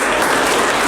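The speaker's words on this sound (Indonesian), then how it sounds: "Oke, tepuk tangan." Dense applause from an audience after a lecture presentation in a lecturer certification session, steady broadband clapping filling the whole second with no talk over it.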